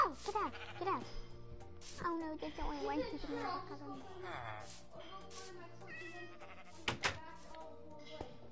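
Sheep bleat in a video game, with several wavering cries scattered among a child's chatter and other game sounds, fairly quiet and intermittent.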